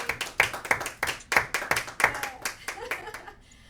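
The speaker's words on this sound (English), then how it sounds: "let's give him a big round of applause" An audience applauds at the close of a speaker-series talk, with scattered hand claps that are fairly close and thin out toward the end, and voices are faintly mixed in.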